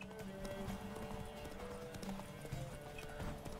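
Roach the horse gallops in The Witcher 3 video game, with a steady, rhythmic clip-clop of hooves running through the whole stretch at an even, close level.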